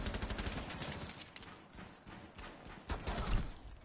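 Rapid bursts of gunfire in a shooter video game, dense and loud across the whole moment with a heavier volley near the end, no talking over it.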